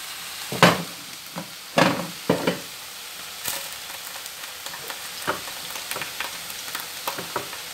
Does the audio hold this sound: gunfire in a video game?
no